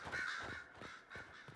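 Crows caw repeatedly in the fantasy game Dragon Age: Inquisition, harsh rasping calls in a steady uneven rhythm, mid-distance and fairly faint, with no voices.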